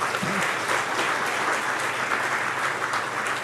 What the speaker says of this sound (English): I think a round of applause is.